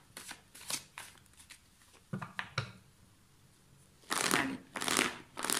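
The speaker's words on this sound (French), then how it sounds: "Je change des fois ma façon de tirer les cartes, selon mon humeur." Tarot cards are shuffled and drawn with quick papery riffles and slaps, first in scattered bursts and then in two longer loud shuffles near the end. A voice speaks briefly at the start.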